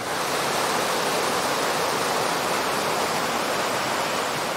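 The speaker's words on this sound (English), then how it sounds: "Sound of the running water and then the little waterfalls, high pitch, low pitch." Goshen Prong, a mountain stream in Great Smoky Mountains National Park, Tennessee, rushes over small waterfalls in a steady, dense roar that holds at an even, close level with no voices.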